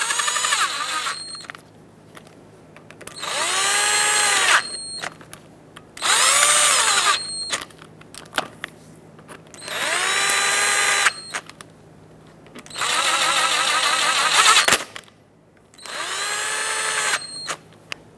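A power drill snugs the front hub bolts on a 2000-2005 Ford Excursion in six separate high whirring bursts, each about a second or two long and close by, with pitch rising and falling and short pauses between.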